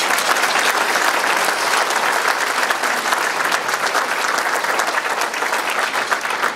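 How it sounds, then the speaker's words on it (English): Loud, sustained applause fills a hall at a State of the City address as the audience honours the new city councillors, a thick, even wash of many clapping hands throughout. "Give them a good round of applause, please."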